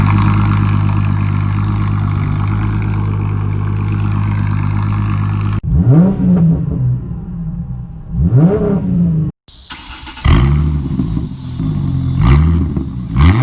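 Ford Mustang S197 with an aftermarket exhaust pipe, first a loud, steady rumbling idle, then sharp throttle blips that rev up and fall back several times, close and powerful.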